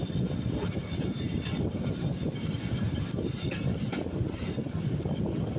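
A train rolls along a railway line in Bangladesh near Ishwardi, a steady loud rumble with faint clattering throughout.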